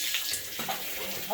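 A toilet tank refills fast after a pressure tank is connected at a Philippines beach house, a steady rushing flow of water heard close with a brief voice near the end.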